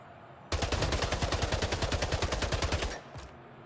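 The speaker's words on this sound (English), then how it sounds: "now we're on to the assault rifle" An assault rifle fires in a video game, a single sustained burst of evenly spaced rapid shots, loud and close, stopping abruptly and followed by a short tail.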